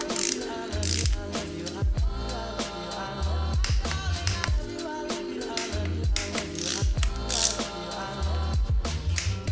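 A torque wrench ratchets in repeated clicking bursts while bolts are tightened on a BMW S54 engine being rebuilt for an E30 swap, close and crisp with brief pauses between strokes.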